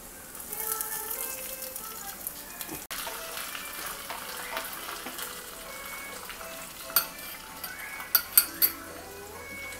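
Mustard seeds sizzle and crackle in hot oil, with scattered sharp pops and a few clinks of a utensil against a pan toward the end.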